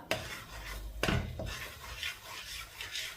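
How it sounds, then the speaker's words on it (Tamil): Rice flour is stirred into a bowl, and a spoon scrapes and knocks against the bowl in a few soft clinks and rubs at close range, with no talking. "கொஞ்சம் கொஞ்சமாக இந்த அரிசி மாவை போட்டு நாங்கள் மிக்ஸ் பண்ணி எடுத்துக்கொள்ளுவோம்"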